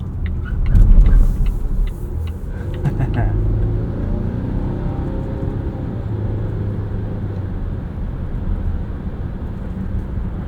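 A 2023 Volvo XC60 Recharge T8 Ultimate plug-in hybrid SUV drives with a steady low road and cabin rumble. A brief louder surge comes early, then the drone settles to an even level.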